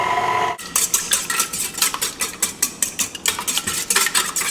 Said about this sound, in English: Now I'm going to mix this together with the hook just until the eggs are broken apart and mixed with the milk.